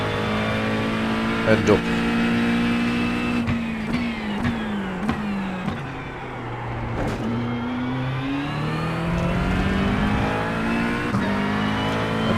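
A GT3 race car in iRacing pushes through a qualifying lap, its engine screaming up through the gears with repeated upshift dips and rising whines, steady and loud beneath someone talking.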